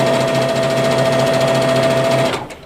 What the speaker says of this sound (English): I start sewing, and then I usually stop just right before my pin and take it out and then keep going